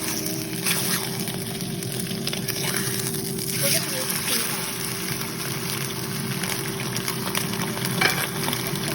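Ham frying in a pan at medium heat, a steady, even sizzle with a low hum underneath, continuing unchanged while a person talks over it.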